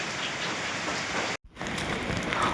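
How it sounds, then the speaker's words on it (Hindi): Steady rain pours down in a remote Kashmir village, a dense even hiss of drops on surfaces close by, with one brief dip before the downpour resumes. "बारिश लगी हुई है व्यूअर्स"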